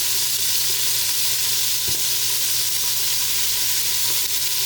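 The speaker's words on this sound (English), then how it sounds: "Once you start browning one side, you just flip them on over and make sure you cook all the sides." Chicken and sausage pieces for Cajun pasta brown in a hot pan with a dense, constant sizzling hiss. One soft clack comes near the middle, likely from a piece being flipped, and there is no talk.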